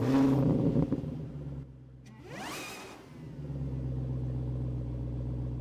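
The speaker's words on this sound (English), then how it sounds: "I can start rolling on forward, making sure I am clear here over that left curb ramp, turning the wheel" A Bentley Flying Spur Speed eases out of a residential driveway with a low, smooth engine hum. A whooshing pass rises and falls midway, then the quiet, steady rumble of the car rolling forward continues.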